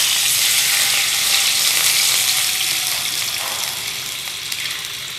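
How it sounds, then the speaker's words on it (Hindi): Chicken stock (yakhni) poured onto frying ground red chilli spices in a hot pan, a loud close burst of bright sizzling and gushing liquid that slowly settles into a softer steady hiss. "और फ़ौरन इसमें यखनी डाल दें"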